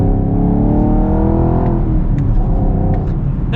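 Chevy Camaro SS 1LE with a manual gearbox accelerating hard, its loud engine revving up through a rising drone that drops at a shift and climbs again, close and continuous with no talk.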